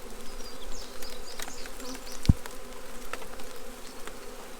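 Bees buzzing around an exposed honeycomb outdoors, a close, continuous droning hum with individual insects passing near, plus one brief knock, no voices.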